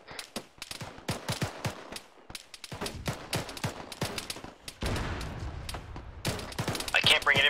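An artillery round fired in a combat video game, with sharp gunfire cracks and thuds in quick clusters, then a heavier boom, all over ongoing battle noise with voices talking over the radio.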